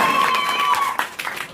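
A school audience claps at a farewell event for 10th-grade students, a brief burst of applause with a ringing tone in the background.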